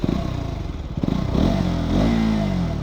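A KTM Duke 200 BS6 motorcycle engine and exhaust, close and loud, with a pulsing idle-like thrum that rises into a revving surge and holds a steady high drone.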